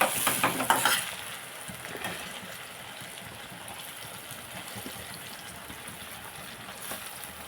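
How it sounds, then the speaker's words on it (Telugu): Tomatoes dropped into a pan of cooked onions hit with a loud burst, then settle into a steady close sizzle and frying hiss with light stirring scrapes. "టమాటాలు వేస్తాం."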